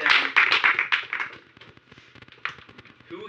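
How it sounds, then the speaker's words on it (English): A church audience gives a brief round of applause, a dense burst of clapping that fades quickly into scattered claps and then picks up briefly again. "Everyone give Mazin a round of applause."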